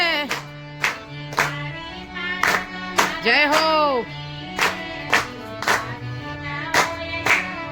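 An audience claps in steady rhythm during a devotional satsang, sharp repeated hand claps keeping time beneath a sung devotional melody.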